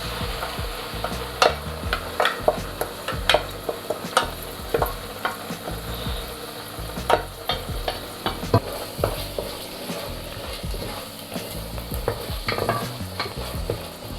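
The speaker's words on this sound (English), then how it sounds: "Two minutes or so of frying, I'm going to add in our blended mixture." Jollof rice base of onions in oil frying in a pot, with a spoon stirring and scraping in a steady irregular rhythm over a soft continuous sizzle, close and moderately loud, no talking.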